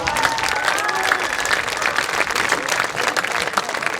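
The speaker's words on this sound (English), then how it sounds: "Let's give them a big round of applause" A crowd of parents claps steadily for students leading a marching band's patron ad campaign, a dense wash of applause with some voices mixed in and no break.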